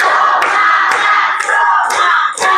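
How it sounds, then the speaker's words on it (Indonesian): A high school informatics class claps hands together in a steady rhythmic pattern, roughly two beats per second, while the students' voices chant loudly underneath. "Oke, tepuk tangan semuanya."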